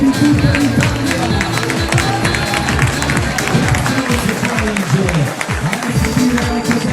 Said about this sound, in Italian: la Calabria si prende l'applauso di tutta l'Italia.